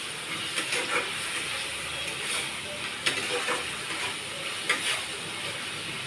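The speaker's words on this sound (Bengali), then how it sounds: "ভেজে রাখা সব চিংড়ি মাছটাই আমি এর মধ্যে দিয়ে দিলাম। দিয়ে এবার আমি এটাকে একটু ভালো করে নেড়ে চেড়ে দেবো।" Fried prawns for doi chingri being stirred in a pan, a steady hiss of sizzling with a few soft scraping strokes and light knocks of the spoon.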